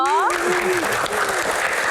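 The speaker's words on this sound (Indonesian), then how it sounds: "Kita berikan tepuk tangan yang paling meriah untuk Mbak Suciwo Tejo" Loud applause from an audience at a Q&A event fills the clip as steady dense clapping, with a voice briefly heard over it at the start.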